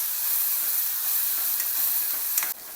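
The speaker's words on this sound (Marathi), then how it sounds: "अद्रक, लसूण, कांदा आणि कोथिंबीर मिक्सरला बारीक करून घेतलेला आहे, ते पण टाकून घ्यायचं. परतून घ्यायचं." A ground paste of ginger, garlic, onion and coriander sizzles in oil as it is stirred, a close, steady hiss with faint scraping, dropping off sharply near the end.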